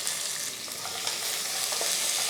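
Loud, dense sizzling of onions frying in oil, with stirring scrapes over a continuous bright hiss.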